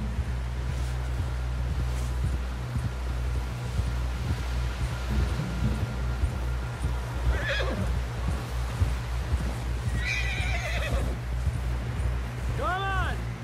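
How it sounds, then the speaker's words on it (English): Horse whinnies twice in a Red Dead Redemption 2 scene, one shrill neigh midway and another near the end, over constant hoofbeat clip-clop and low rumbling ambience. "Someone help John down off this horse."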